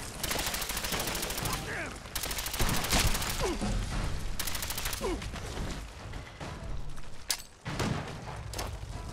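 Sustained gunfire in the video game Fallout 4 Nuka World, a dense fusillade of rapid shots with booming bursts that runs through the whole stretch, loud and continuous with brief gaps.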